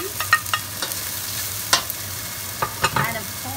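Onion frying in olive oil with ginger and garlic, a steady soft sizzle under several sharp stirring scrapes and clinks, close and fairly quiet, with no one talking.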